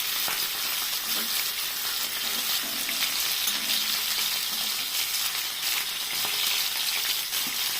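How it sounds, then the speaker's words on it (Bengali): Katla fish pieces frying in hot oil, giving a dense, close, steady sizzle with soft crackles and occasional bubbling pops throughout, no voices. "মাছগুলো খুব ভাজবো না, মানে একটু লাল লাল করে উঠিয়ে দেবো।"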